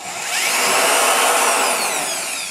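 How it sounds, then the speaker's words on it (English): A screw gun backs screws out of a saddle tree, one loud continuous high whirring burst that rises and eases off, close up with no talking. "we're watching the screws come out with the screw gun"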